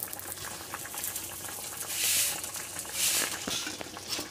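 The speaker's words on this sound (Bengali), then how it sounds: "তো দেখো ঝোলটা ভালোভাবে ফুটে উঠেছে।" Fish curry bubbling at a boil in a village kitchen pot after fried tilapia pieces are added, a steady close patter of bursting bubbles with two brief louder hissing surges.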